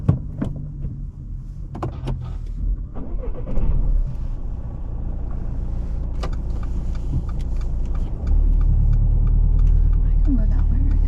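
A car on a mock driving test pulls away, with low engine rumble rising as it moves off, mixed with clicks and interior movement noises; a voice speaks briefly early on.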